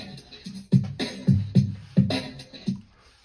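A transposed drum sample plays back in a sampler: a handful of deep, punchy hits land in an uneven pattern, close and fairly loud, each with a short decaying tail.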